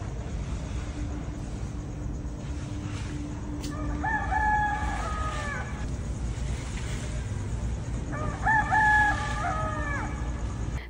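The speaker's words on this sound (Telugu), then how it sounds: "సో అదే మా కోడి" A rooster crows twice at a home in India, each call a long, clear cock-a-doodle-doo standing out over steady background hum, the second crow arriving a few seconds after the first.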